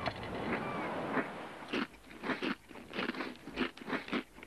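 Several sharp, loud crunching bites into a crisp Snickers Cruncher chocolate bar, spaced irregularly, with softer rustling noise at the start.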